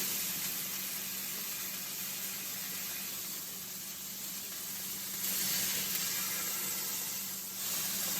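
Bison burgers sizzle loudly on a grill as they are flipped and smushed, a steady broadband hiss that swells briefly midway and holds throughout, with no talking.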